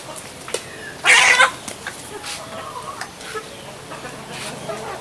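A short, loud burst of squawking fowl calls from a small flock of young turkeys on a farm, lasting about half a second, over a low outdoor hum.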